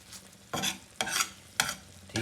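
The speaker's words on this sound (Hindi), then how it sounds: "अब इसकी भुनाई शुरू हो गई है।" Beef pieces frying in about a cup of oil on a tawa, a steady sizzle broken by three or four rhythmic scrapes of stirring, close up with no voices.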